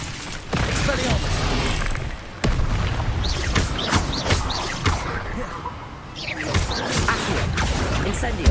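Spell casting in Hogwarts Legacy on PS5, including the Expelliarmus disarming charm, heard as a busy run of sharp magical bursts, whooshes and impacts in close succession, with a voice speaking spell names among them.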